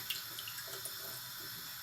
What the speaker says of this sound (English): if you pop it in water and just rub it, all the skin is just going to completely fall